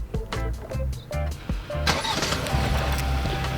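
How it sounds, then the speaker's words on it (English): A 2021 Kia Sorento EX Turbo AWD starting remotely by key fob: a few short clicks and chirps, then the engine catches around the two-second mark and settles into a steady idle hum, heard fairly close with no talking. "then you can remote start your car from outside of it"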